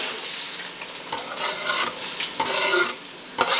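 Chopped onions drop into a white pan of hot groundnut oil for a chicken curry, giving a steady, close crackling sizzle with stirring and scraping that swells and eases in waves, with no voices.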